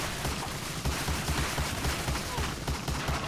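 Gunfire at a machine gun nest in Medal of Honor: Allied Assault: steady, rapid rhythmic shots with a thudding low pulse, continuous across a few seconds amid dense battlefield noise, no clear voices.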